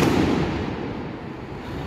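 Distant fireworks at the Las Fallas festival in Spain boom and rumble in a continuous rolling roar that slowly fades, loud and low without clear separate bangs.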